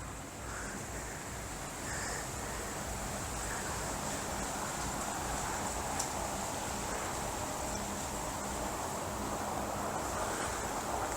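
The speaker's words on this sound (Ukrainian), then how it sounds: "Сьогодні вітер у нас сильний." Strong wind blows across a rural house plot, roaring as a constant broadband rush against the microphone with faint gust variation throughout.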